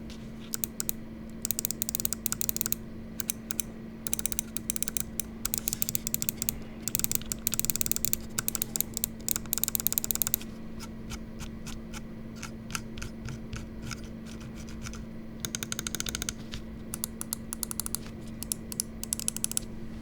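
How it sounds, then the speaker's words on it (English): Rapid bursts of crisp clicks from a Darmoshark M5Air carbon fibre wireless gaming mouse, tapping in quick clusters with brief pauses, close and clear over a faint steady hum. "Let's go ahead and drop a click quality sound test."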